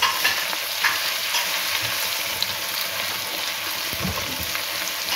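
Browned onions with garlic hiss and crackle steadily in a frying pan while being stirred, a dense, continuous sizzle with occasional faint scrapes.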